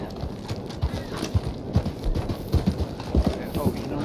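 Horse hooves clip-clopping in the Western video game Red Dead Online, an irregular run of close, hollow thuds over a faint ambient bed, with a voice speaking alongside.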